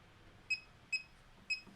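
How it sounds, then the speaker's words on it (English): Three short, bright electronic beeps from a tech gadget's keys as they are pressed, spaced about half a second apart, faint and close over a quiet room hum. "Can you turn off the beeps?"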